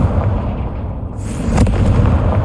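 Confringo fire spell blast from Hogwarts Legacy, a sudden burst and whoosh midway that swells into a sustained roaring rumble, loud and close.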